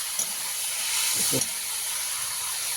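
A constant hissing sizzle of meat frying in a pan, close up, with brief muffled voice sounds partway through.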